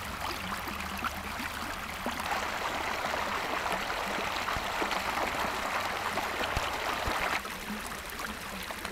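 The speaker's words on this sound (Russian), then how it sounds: "по этой улице идут бурные реки воды от Луганск-воды" Water from a burst main in Luhansk rushes down a street as a steady, broad roaring wash with faint splashing. It holds at an even level throughout, with no voices.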